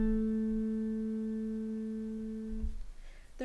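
A sustained tonal counterpoint melody line for a first species exercise, with the raised seventh resolving up to the tonic. A single clear pitched tone holds, then shifts near the end over faint background noise.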